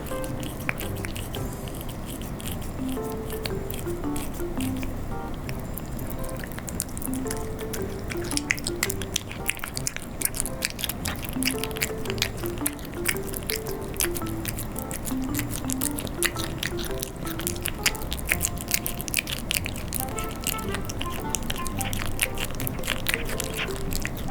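A cat chews and eats red fish meat, with soft wet smacking and squishy biting sounds repeating steadily and close up under a faint, steady background.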